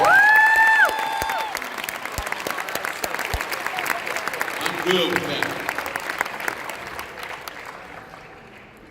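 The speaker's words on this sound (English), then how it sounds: "let's clap for him" Audience applause at a summit talk, a crowd clapping steadily under a few spoken words, beginning loud and thinning gradually over several seconds.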